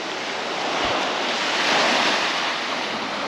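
Sea waves wash onto a Crimean beach under strong wind, a broad steady surge of surf with gusts buffeting the microphone and no voices.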